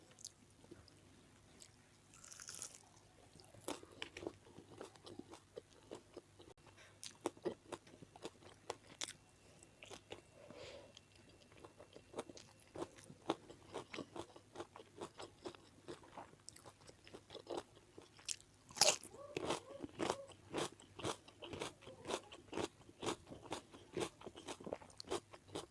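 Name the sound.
biting and chewing fried chicken in a mukbang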